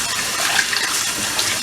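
Tap water runs steadily into a kitchen sink being filled to wash collard greens, a continuous close rushing gush with no talk.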